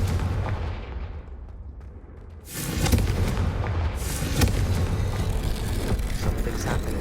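A Confringo fire spell detonates in the Hogwarts Legacy video game, a loud booming explosion that bursts in abruptly and then rumbles on as a dense, sustained roar.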